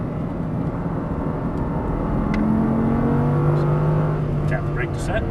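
An Audi R8 on a race track accelerates hard out of a corner, its engine note climbing steadily as it pulls away, loud and continuous, with a voice talking over it.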